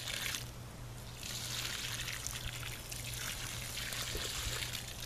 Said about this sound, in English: As you can see, the water flows downhill here